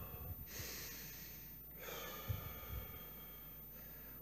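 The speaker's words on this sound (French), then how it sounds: "On prend l'air par le nez et on le repousse par la bouche." A person breathes in through the nose and out through the mouth, slow audible breaths alternating in sequence with long sighing exhales, close and quiet with no talk.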